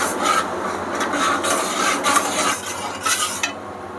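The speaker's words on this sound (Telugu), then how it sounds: "ఇది కొంచెం తీగపాకం వచ్చే వరకు మనం ఇలాగా కలుపుతూ ఉండాలి." Organic jaggery and a little water are stirred in a pan, with a utensil scraping and rubbing in repeated strokes close up, and no talking.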